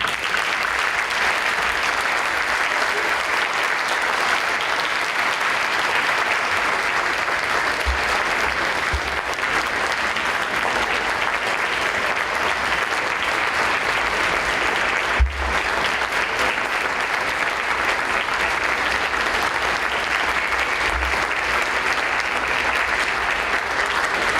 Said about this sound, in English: Join me in applauding Mr. Wilkes.